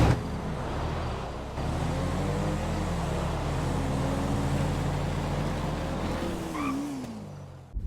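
A Nova and a Porsche rev and accelerate in a GTA V drag race, engines droning loud and close with rising and falling pitch as the cars pull away, then a final sharp burst as one fades.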